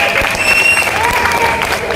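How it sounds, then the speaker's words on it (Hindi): A loud, dense burst of clapping from a crowd at a school Republic Day speech, steady throughout, with a faint whistle-like tone above it. "एक बार जोरदार ताली के साथ"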